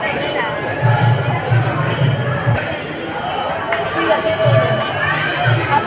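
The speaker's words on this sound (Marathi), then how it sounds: "भक्तांची गर्दी व मंदिरामध्ये गजर भजन कीर्तन चालू आहे" Devotees crowd the Alandi temple during bhajan kirtan, producing a dense, steady wash of voices and murmur. Faint rhythmic thumps and metallic clinks sit beneath the continuous crowd noise.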